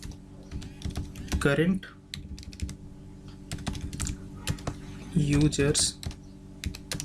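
Steady clicking on a computer keyboard runs throughout while PHP code is typed, with someone talking over it in two short phrases.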